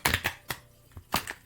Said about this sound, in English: I didn't do very good with that shuffle.